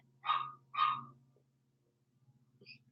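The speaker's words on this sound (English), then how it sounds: "I don't know what he's barking at." A dog barks twice in quick succession at moderate distance, followed by quieter faint yips near the end over a low background hum.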